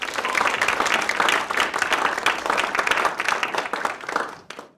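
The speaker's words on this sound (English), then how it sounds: "please join me in offering a very warm round of applause for our speaker" An audience gives warm applause for a speaker at a memorial lecture, a dense burst of clapping that holds steady for several seconds and then fades out at the end.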